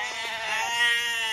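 A cartoon sheep gives one short, wavering bleat, a sustained nasal tone with a slight quiver, heard close and clear.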